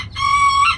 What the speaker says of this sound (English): I'm starting to think we got more roosters in here.